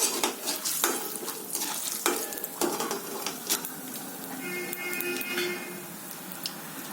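Peanuts frying in hot oil in a pan while being stirred, a steady close sizzle broken by repeated scraping and clinking strokes of a spoon.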